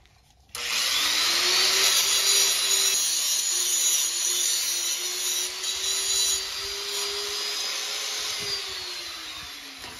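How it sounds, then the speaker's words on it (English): Angle grinder working the underside of a hot custom lock nut during a 200-amp electrical service install, a loud steady whine with a rising and falling pitch that runs continuously for about ten seconds after a sudden start, with no talking. "Let me grind this underside a little."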